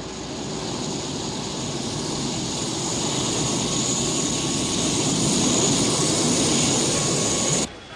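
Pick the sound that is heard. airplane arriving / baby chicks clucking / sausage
airplane arriving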